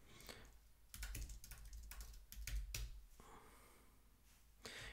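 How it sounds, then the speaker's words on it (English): Quiet, close clicking of keys as someone types on a computer keyboard, an irregular run of taps with a few heavier strokes. "Just type and press enter."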